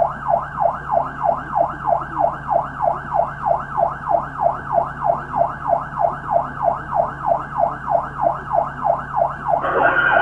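A police car siren wails steadily during a police chase, its regular up-and-down sweep repeating many times, loud and clear, with a rising rumble near the end.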